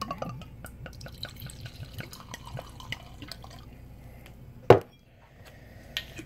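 Jim Beam bourbon poured into a glass, a run of small close drips and trickles, then one sharp clink near the end and quiet after.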